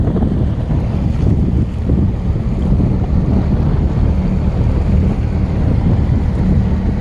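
A boat moves across open water off Fort Myers, Florida, with steady heavy wind buffeting the microphone and a constant low rumble of hull, engine and waves throughout, with no talking.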